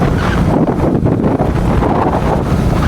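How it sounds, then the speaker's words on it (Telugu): Strong evening wind buffets the microphone while riding a bike, a loud, constant roaring rumble with no gaps. "గాలి కూడా సాయంత్రం కాబట్టి గాలి కూడా ఫుల్గా వీస్తుంది"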